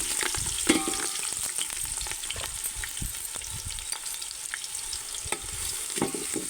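Steady, close sizzle of finely chopped carrot, onion and green chilli frying in oil in a pan, with occasional stirring scrapes over a continuous hiss.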